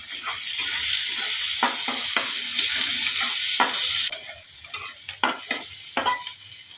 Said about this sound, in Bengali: এটা আমি একটু হালকা ভাজা করে নিলাম।